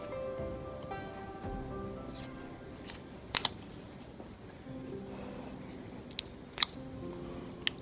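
Scissors snipping strips of tape for a Dollar Tree decorative tray craft, a few sharp isolated cuts spaced apart over quiet rustling, close by.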